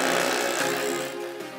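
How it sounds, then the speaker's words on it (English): An SDS drill hammers into a concrete slab to pre-drill holes for 5/8 masonry bolts for a cedar pergola, a loud, steady rattling whine heard close up with no talk. "I then used my SDS drill to pre-drill into the slab to install the 5/8 masonry bolts"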